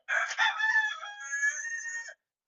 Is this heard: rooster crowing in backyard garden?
yes